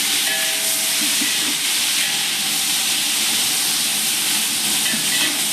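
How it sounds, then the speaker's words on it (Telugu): Tomatoes land in a hot pan while biryani cooks, setting off a loud, steady, broadband hiss and sizzle that stays close and unbroken throughout. "ఇప్పుడు వేసుకోవాలి టమాటా."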